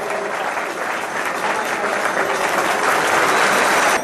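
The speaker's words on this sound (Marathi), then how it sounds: "टाळ्यांचा कडकडाट व्हावा" Sustained applause from an audience at a formal gathering welcoming a distinguished guest, dense and steady clapping that swells slightly toward the end, with no talk over it.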